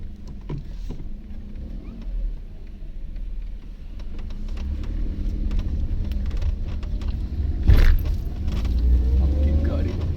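Car on a road in India thumping over harsh speed breakers, low rumbling bumps and road noise with a sharper jolt near the end, while someone talks over the drive.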